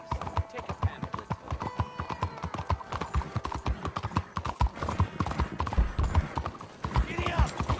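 Horse hooves clip-clop steadily through a town street in Red Dead Redemption 2, a dense, close, rhythmic trot with a brief whinny, under ambient city bustle and faint voices.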